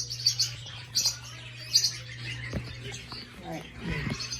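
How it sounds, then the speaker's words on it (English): Doves at a bird farm, with repeated high chirps in short bursts and soft low coos beneath, plus a steady low hum; people talk quietly in the background. "These are doves."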